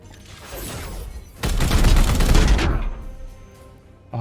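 Heavy gunfire bursts in the turn-based tactics game Chaos Gate: Daemonhunters, a dense roaring volley lasting about a second and a half after quieter rumbling battle ambience, then fading back to low background noise.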